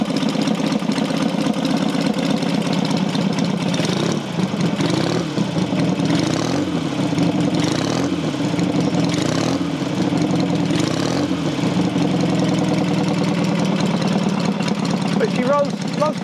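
A Matchless G12 classic motorcycle engine ticks over at a steady idle up close, its even loping beat continuing throughout with speech over it.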